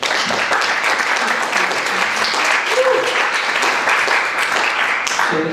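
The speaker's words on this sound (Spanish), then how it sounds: "Demos un aplauso al doctor Marco Antonio Chávez" A conference audience at a chemistry faculty applauds a physics lecturer, sustained loud clapping from a large crowd that fills the room throughout, with faint voices underneath.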